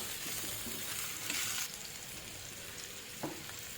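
Raw banana pieces frying with coconut in a pan, giving a steady, even sizzle with a few soft stirring scrapes heard faintly over the constant hiss.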